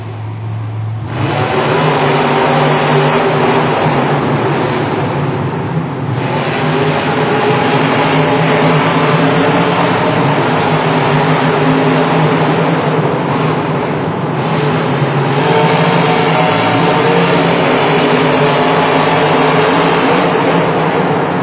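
Monster trucks Megalodon and Black Pearl roar at the start line of a Monster Jam stadium event in Miami, engines revving loudly in long sustained bursts, surging and dipping with brief pauses between blasts.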